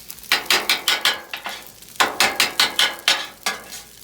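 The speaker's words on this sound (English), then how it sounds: "Now we just kind of chop the eggs up." A metal spatula chops eggs on a sizzling griddle for chicken fried rice, making rapid, rhythmic, loud scraping taps in two bursts of six or seven strikes each, with a brief pause between them.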